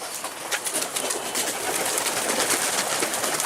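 A mirror-tail domestic pigeon lands and coos among other pigeons outdoors, a steady bed of bird sound and airy noise with soft flutters, moderately loud and continuous, no talking.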